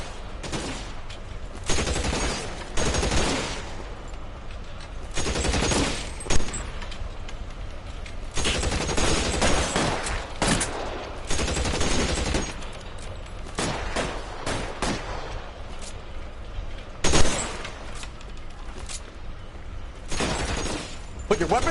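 A shootout in L.A. Noire: repeated bursts of loud, sharp gunfire come in clusters separated by short lulls, with glass-like cracks and impacts, and voices speaking between the shots.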